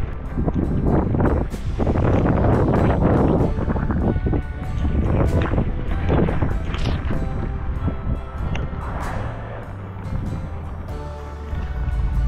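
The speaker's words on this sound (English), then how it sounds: "Now it's too windy to speak." Strong wind buffets the microphone outdoors on a sheep farm during lambing, a loud continuous roar of gusts with water-like rushing, steady throughout with no clear talk.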